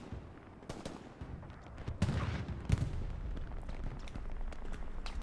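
Scattered gunfire in the WWII shooter Hell Let Loose on the Stalingrad map, including machine gun bursts, sharp cracks and distant booms popping irregularly against low rumbling battle noise, fairly faint overall.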